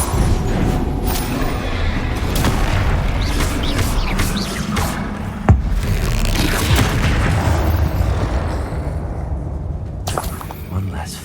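Incendio fire spells and explosions in the Hogwarts Legacy video game: a dense, continuous roar of booming blasts and rumble, loud throughout, with one sharp crack near the middle, under shouted voices.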